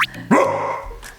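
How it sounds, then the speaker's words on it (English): A large, vicious dog lets out one sharp, loud bark, close and aggressive, preceded by a brief high yelp, with no talking. "that is a really vicious,"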